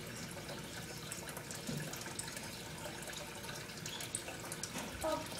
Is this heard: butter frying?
no